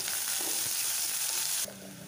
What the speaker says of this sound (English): Now that the onions are nicely fried